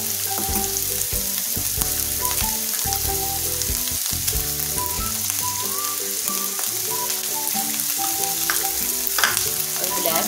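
Egg fried rice made with green onion, Chinese salt and black pepper frying in a pan, a steady close sizzle running throughout, partly masked by background music, with no talking.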